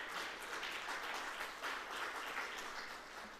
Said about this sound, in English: you give the ladies and gentlemen of STATIN a round of applause